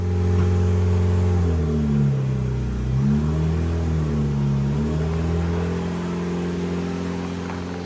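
A Yugo's engine idles and runs steadily as the car is backed out, with its pitch dipping and rising as the clutch is worked, loud and close without any talk.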